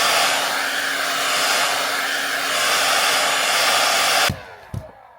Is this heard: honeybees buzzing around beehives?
no